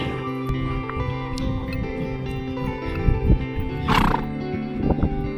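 Horses nearby in Mongolia, with soft hoof clops and shuffling, then a loud whinny rising in the middle and a shorter snort or neigh near the end.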